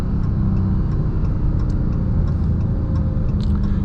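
Dodge Charger Hellcat Widebody Jailbreak engine rumbles loudly and steadily from inside the car, a dense low drone with faint ticking on top and no clear gear-change breaks.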